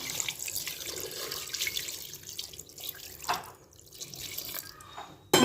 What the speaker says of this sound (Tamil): இப்போ இது எலும்பு முங்குற அளவுக்கு தண்ணி சேர்த்துக்கிடலாம்